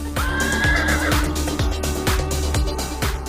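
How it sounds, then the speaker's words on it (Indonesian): A horse on a horse farm in the town of Dali neighs loudly in one long whinny, with steady rhythmic hoofbeats and a low rumble continuing underneath. "Hussein memiliki peternakan kuda di kota Dali"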